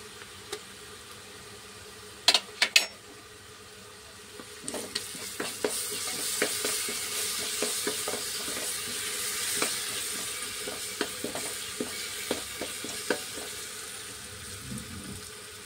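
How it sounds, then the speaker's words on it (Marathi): Ginger garlic paste sizzles in hot oil while chana dal cooks, a steady frying hiss with scattered clicks and stirring scrapes, beginning after a few sharp knocks. "आणि आता याच्यानंतर मी टाकत आहे हे मस्त आपला अद्रक लसूणची पेस्ट।"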